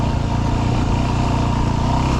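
An old Yamaha WR dirt bike engine drones steadily and close on a rocky Colorado mountain trail, a continuous mid-pitched motor hum with no talk over it.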